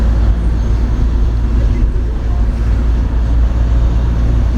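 A 1993 Saab 900 Turbo-S 2.0-litre 16-valve with a race catalytic converter and brand-new exhaust idles steadily, a loud, dense low rumble that holds constant throughout with no clear revving.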